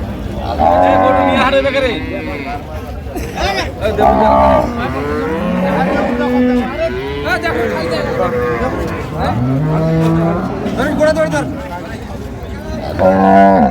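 Milking cows and calves at the Ambari cattle market in Dinajpur moo loudly and repeatedly, long drawn-out lowing calls close by, while people bargain and talk beneath them.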